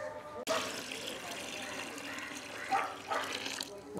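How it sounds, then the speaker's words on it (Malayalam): Water pours into a container to dilute liquid fertilizer for vegetable plants, a continuous splashing gush starting abruptly after a brief pause, with a person speaking over it. "അപ്പോൾ അത്രയും തന്നെ നമുക്ക് വെള്ളം ചേർത്ത് കൊടുക്കാം."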